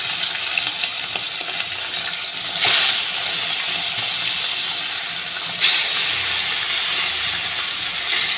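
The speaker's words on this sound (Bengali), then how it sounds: "তো দেখো আমি কড়াইতে তেল বসিয়েছি, তেলটা গরমও হয়ে গেছে। আমি এবার মাছগুলোকে ছেড়ে দিচ্ছি।" Pieces of catla belly fish hit hot oil in a kadai, a loud, steady sizzling hiss that swells in two bursts as more pieces go in. No voices are heard.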